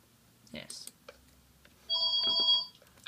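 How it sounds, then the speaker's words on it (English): A telephone rings with a bright electronic trill lasting about half a second, close and clear. Quiet talk and small bumps come just before it. "And that's the phone."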